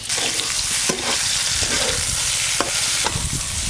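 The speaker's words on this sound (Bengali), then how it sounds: "ফুলকপিগুলো একটু লাল লাল করে ভেজে নিয়েছি" Cauliflower florets frying in mustard oil in a pan, a loud continuous sizzle broken by several scraping, clattering stirs of a spatula, close up and with no voices.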